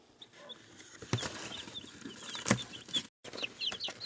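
Young, fluffy Easter Egger and Olive Egger hens cluck and chirp in short bursts throughout, with a brief flutter or bump midway and no talk.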